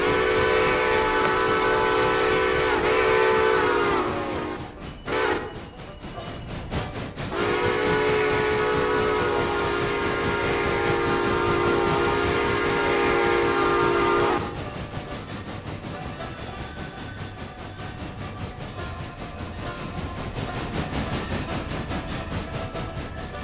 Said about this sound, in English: God, this locomotive does not like turns at all.